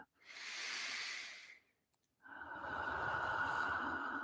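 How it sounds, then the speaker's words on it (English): A deep breath during a guided meditation puja: a long soft inhale with airy hiss, a brief pause, then a longer, fuller exhale close to the mic, alone without talk. "take a deep and clearing breath"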